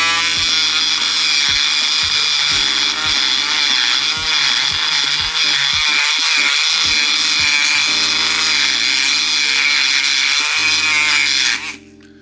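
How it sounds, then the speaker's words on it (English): Electric rotary power tool grinds the mold line off a resin Ferrari 488 model car body, a loud steady high-pitched whine with scraping bursts throughout, cutting off abruptly near the end. "I don't have the time to sand it, so I use my power tool."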